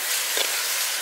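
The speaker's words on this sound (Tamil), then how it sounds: "வெங்காயமும் வெள்ளைப்பூண்டு பார்த்தீங்கன்னா வதங்கிட்டே இருக்கு" Onion and garlic sauté in a pan for a squid masala, giving off a steady, loud, close sizzling hiss with no talk.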